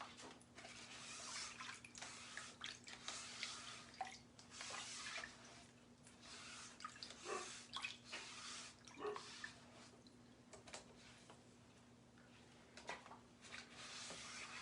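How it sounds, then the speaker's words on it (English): Water sloshing and dripping in a tub as a transfer is washed by hand, faint splashes and trickles coming in uneven bursts close by. "So I have a tub of water here, and they recommend, part of a good use is washing your transfer very quickly."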